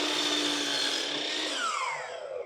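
A power saw cuts a 22.5-degree angle through a wooden board, a loud high whine holding steady and then spinning down in pitch as the blade winds down at the end, with no talking.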